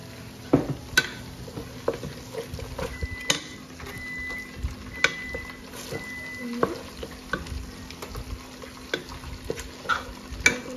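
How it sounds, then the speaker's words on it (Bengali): Chicken with chopped tomato, soy sauce and ketchup fries in a pan, giving a soft continuous sizzle broken by repeated sharp scrapes and clicks of a spatula stirring, with no talking. "চিকেন, সয়া সস, কেচাপ সব কিছুকে একসাথে ভেজে ভালো করে ভাজা হোক।"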